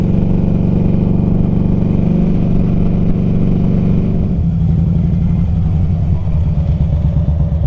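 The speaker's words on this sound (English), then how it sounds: "A lot more cars than motorcycles, though." Cars and motorcycles rolling through a quiet desert rest area, a loud close engine rumble that holds steady and then shifts pitch as a vehicle passes and pulls away, with no talking.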